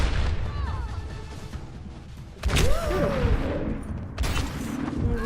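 Sniper gunfire in Overwatch, with sharp game shots, booms and whooshing effects over a dense battle din. A burst near the middle stands out, then further blasts follow.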